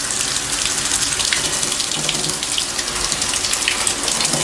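Tap water runs steadily into a bowl while synthetic braiding hair is rinsed, a continuous close splashing gush with no talking.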